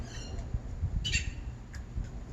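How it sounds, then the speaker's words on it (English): A few short, bright bird chirps and squawks outdoors in Phoenix, spaced irregularly over a low, rumbling background, fairly faint and distant. "Gotta love the birds right now."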